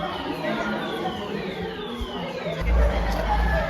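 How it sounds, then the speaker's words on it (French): Fire alarm going off at night in a hostel in Burgdorf, a steady electronic wail with falling sweeps, continuous and fairly loud, with a low rumble building toward the end. "on est réveillé à 3 h du matin par l'alarme incendie"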